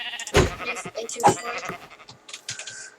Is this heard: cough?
no